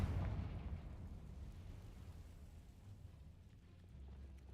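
A Confringo fire spell bursts in Hogwarts Legacy, giving one loud, booming blast that quickly settles into a long, low rumbling roar which fades only slightly over several seconds.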